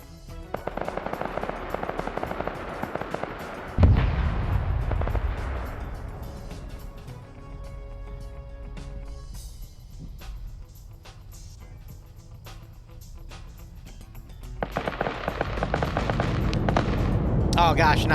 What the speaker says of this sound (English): now the tank's shooting at friendly infantry